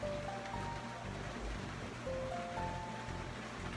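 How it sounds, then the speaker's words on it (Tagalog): Rain falls steadily outside a small neighborhood store, a constant broadband hiss of drops on surfaces, with faint tonal background sounds drifting in and out and no talking. "It's raining."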